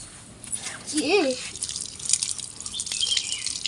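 Water from a pipe splashes and trickles nearby as hands are washed, with a few brief drips and a short bird-like chirp near the start.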